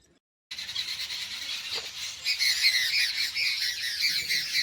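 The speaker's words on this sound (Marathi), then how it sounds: "खूप सारे पक्षी आहे. काय भानगडी चालू आहे काही कळायला मार्ग नाही." A flock of birds squawks and squeals noisily from a tree along the Narmada riverbank, harsh overlapping calls starting abruptly and building in intensity, close and continuous with no voices.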